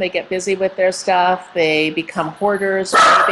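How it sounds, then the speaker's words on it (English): A pet dog barks and yips in short bursts at home, sounding close by, mixed in with someone talking steadily over it. "Oh, that's my dog."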